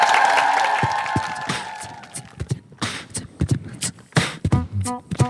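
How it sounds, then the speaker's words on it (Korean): A studio audience on a Korean TV variety show applauds: a full wash of clapping fades over about two seconds, then gives way to a cappella vocal beats and singing. "박수로 즐겨보도록 하겠습니다"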